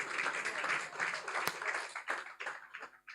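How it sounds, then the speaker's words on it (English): Audience clapping at the Make In Nigeria event after a speaker's farming story, a spread of hands clapping with some sharp individual claps standing out and the applause thinning toward the end. "Clap for me now"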